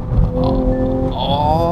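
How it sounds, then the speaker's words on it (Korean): Engine of a Hyundai Veloster Turbo DCT pulling under acceleration: a strong, close, steady growl with stacked harmonic tones that rise sharply toward the end of the short burst. "이건 레이스카 소리 같은 게 나는데요."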